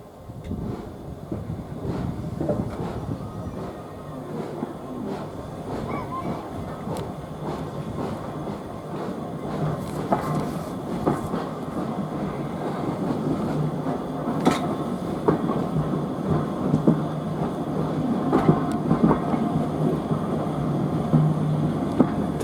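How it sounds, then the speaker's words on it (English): A steam train pulls away from Smallbrook Junction on the Isle of Wight Steam Railway, its wheels and carriages rumbling and clacking steadily and loudly throughout with no talk over it. "Departing Smallbrook Junction, we are now leaving it."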